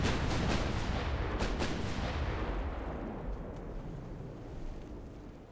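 Heavy naval guns fire in a steady barrage of deep, booming blasts during a warship battle in Ultimate Admiral: Dreadnoughts, the loud bursts washing into a long rumbling decay that fades over several seconds.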